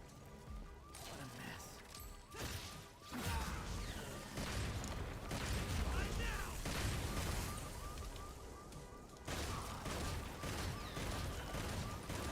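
Continuous rapid gunfire bursts and explosions from a shooter video game rattle through a noisy, dense mix over about twelve seconds, with voices talking underneath.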